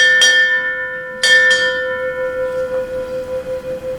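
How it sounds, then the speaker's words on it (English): A ship's bell rings four times during a naval change of command ceremony, with clear metallic strikes spaced unevenly and each ringing out with a long decaying tone. "4 bells."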